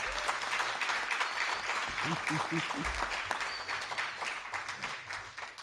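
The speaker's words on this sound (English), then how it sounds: "So we just can't give her enough round of applause." Audience at a housing ribbon-cutting ceremony applauds steadily, a soft, dense patter of many hands with faint murmuring voices beneath.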